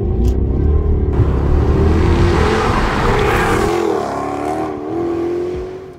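A Jaguar XKR X150 facelift GT tourer accelerates hard with a loud, deep engine roar, the pitch rising and dropping as it shifts through gears, with wind and road rumble throughout.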